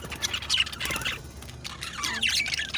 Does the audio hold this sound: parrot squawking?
yes